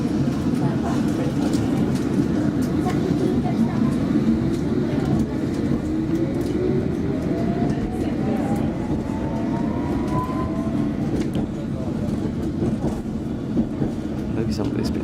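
A London Underground District Line train heading toward Ealing Broadway, a loud continuous rumble with rising whining tones partway through, heard from aboard the carriage with speech mixed in over the noise.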